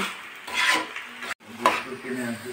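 A spoon stirs carrots and kohlrabi with mustard paste in a pan, a steady scraping and rubbing with a faint sizzle, close by, broken once by a brief pause.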